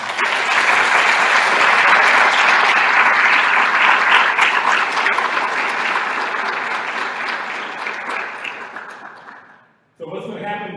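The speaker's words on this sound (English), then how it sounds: "I'm going to start with a big round of applause from the whole group for Team Magnet" A group in a meeting room applauds Team Magnet, loud and sustained clapping that gradually fades out, followed by a voice starting to speak at the very end.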